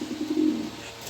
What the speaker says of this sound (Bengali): সেই রকম এক পেয়ার কবুতর